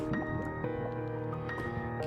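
Water placed in the Minecraft video game gives soft liquid drips and squishy flowing sounds, layered over a steady tonal game music bed at low volume.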